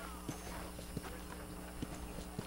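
In Red Dead Redemption, a horse's hooves strike the ground in a slow, uneven series of clip-clops, sitting faintly beneath a steady wash of in-game ambience.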